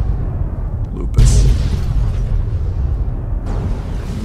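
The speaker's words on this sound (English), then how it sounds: "Massive explosions." Booming dynamite explosions in the video game Fallout New Vegas, with a sharp, heavy blast about a second in followed by rumbling and a second burst near the end, under low background noise.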